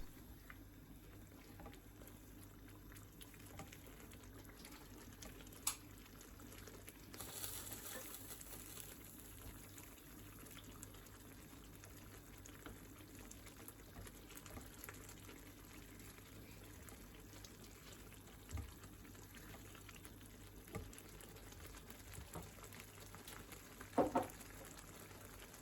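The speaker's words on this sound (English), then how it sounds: "Add half of the remaining water and continue to fry for a couple of minutes." A pan of chicken vindaloo with water added sizzles and bubbles softly throughout, a steady faint fry with a few scattered clinks and louder pops near the end.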